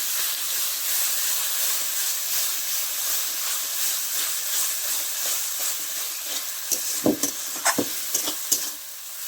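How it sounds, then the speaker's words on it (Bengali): Chicken curry with yogurt hisses and sizzles in a pan as it is stirred. A steady frying hiss runs throughout, and near the end several sharp, close scrapes of the spoon against the pan cut through it. "দইটা দিয়ে একটু ভালো করে নাড়তে হবে।"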